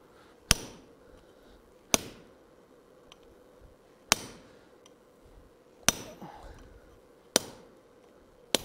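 Hot iron is hammered on an anvil to split off a piece for a colonial-style trivet: six sharp, ringing hammer strikes come at uneven intervals of about one to two seconds, with faint talk between blows.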